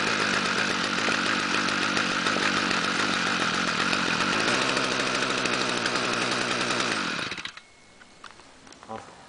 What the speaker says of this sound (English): You can depend on your Stihl weed whacker in the middle of the winter.